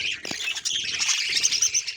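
Budgerigar chicks and parent birds kept in a clay pot nest chirp and squawk rapidly and shrilly, close by, in a dense overlapping chatter for two seconds.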